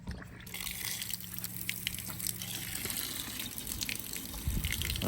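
Water runs and gushes steadily through household pipes, a continuous rushing wash with slight surges and no talk.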